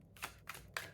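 Tarot cards laid down one at a time on a surface, giving three soft, close slaps spaced about a quarter second apart, with no talking.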